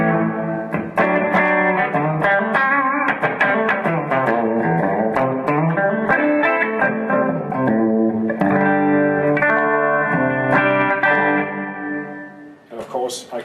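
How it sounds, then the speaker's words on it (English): Electric guitar played through a TC Electronic Hall of Fame pedal set to a subtle room reverb, a continuous run of sustained chords and melodic notes with a light ambient tail, close and steady at moderate loudness. "First up, we have a room reverb that just adds a little bit of ambience to the sound"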